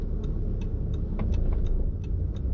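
A driving school car pulls away slowly, its engine a steady low rumble from inside the cabin, with a regular faint ticking running through it and no talk.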